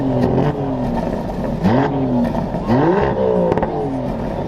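A Lamborghini Aventador SV engine revs repeatedly and loudly, rising and falling in pitch with sharp throttle blips, close by.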